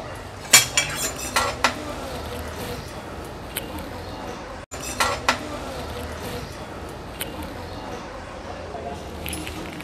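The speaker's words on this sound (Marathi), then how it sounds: "लाडू ॲड केल्यानंतर ह्या पळीने व्यवस्थित आपल्याला हे मिक्स करून घ्यायचं आहे" A ladle clinks against a metal pot while stirring crushed rava ladoo into kheer, giving a few sharp scrapes and taps near the start and again midway, with quieter stirring in between.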